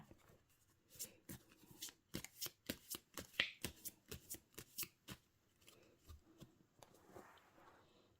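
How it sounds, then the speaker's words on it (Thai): Gypsy tarot cards being cut and shuffled, a close, quiet series of crisp riffling and slapping bursts in a steady rhythm, fading to softer handling at the end. "ขอเป็นตัวแทนตัดไพ่ตัดไพ่ให้คนเกิดวันพุธค่ะ"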